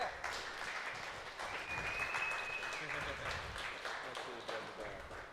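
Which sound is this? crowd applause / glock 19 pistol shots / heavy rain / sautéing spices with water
crowd applause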